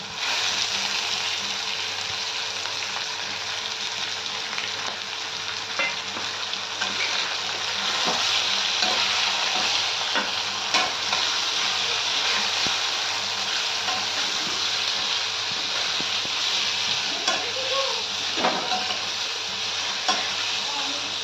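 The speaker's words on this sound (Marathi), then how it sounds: "आणि जरा कोळंबी तेलात परतून घ्यायची" Prawns sizzle and fry steadily in hot oil with turmeric in the pan, a continuous bright crackle with occasional stirring scrapes, close and alone for the whole stretch.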